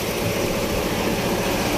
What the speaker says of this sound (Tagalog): So naandar naman yung aming makina mga kabady.